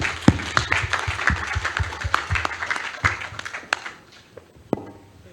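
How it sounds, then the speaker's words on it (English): Audience applause for a speaker at a workplace co-creation event, a burst of scattered individual claps that thins out and tapers into a few isolated taps toward the end. "Let's all give a warm round of applause to Telstra International Philippines'"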